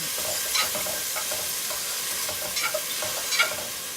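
Vegetables sizzling steadily in a hot pan, a loud continuous hiss with occasional stirring scrapes, no talking.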